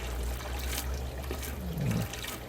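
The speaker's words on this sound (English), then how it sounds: "I'll add water that's not quite as salty and slowly drip in some RO water, which is purified water" Purified RO water drips slowly into a saltwater fish tank, making a faint, steady trickle over a low background hum, with no talking.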